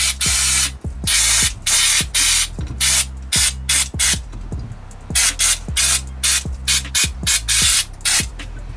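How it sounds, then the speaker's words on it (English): Brake cleaner is sprayed onto camshaft-area engine parts of a 1.8 20VT engine in a steady run of short, loud aerosol hisses, close up, with a low mechanical hum underneath. "So I'm literally just going to clean them off with a little bit of brake cleaner, nothing too wild."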